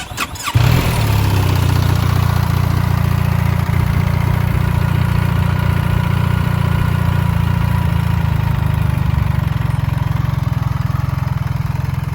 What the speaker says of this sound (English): I will start up the bike now.